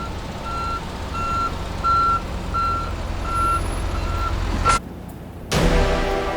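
Truck reversing beeps in The Amazing Spider-Man 2 video game, a steady series of evenly spaced high beeps over a rumbling engine, ending with a hiss and a sudden cut in the noise.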